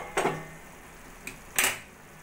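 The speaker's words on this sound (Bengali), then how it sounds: "এবার আমি ঢাকাটা তুলে দেখে নেব।" A lid lifted off a pot of simmering chicken curry, giving a short metallic clink followed by a louder clattering scrape, close and otherwise quiet.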